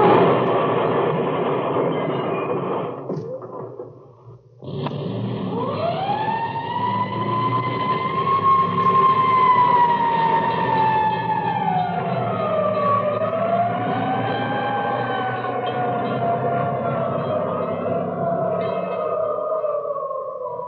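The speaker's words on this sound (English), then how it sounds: "you are recording things like traffic noises and sirens and crashes and train sounds and things like that" A recorded sequence of a train rumbling past with a fire engine siren wailing in long rising and falling sweeps, preceded by a brief lull, played back loud and steady throughout.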